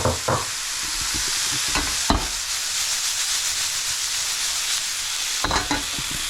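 Pasta tumbling into a hot pan on lowered heat, followed by steady sizzling and stirring scrapes, with a few sharper clatters of the utensil against the pan, near and continuous with no talking.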